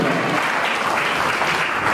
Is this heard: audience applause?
yes